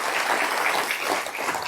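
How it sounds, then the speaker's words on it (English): Dense, steady applause fills a conference hall after a keynote at a marketing conference, an even wash of many hands clapping throughout. "Don't applaud just yet"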